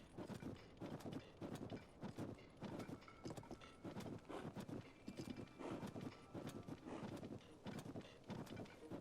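A horse's hooves gallop in The Legend of Zelda: Tears of the Kingdom, a fast, steady run of rhythmic clip-clop beats, near and clear throughout with no talking.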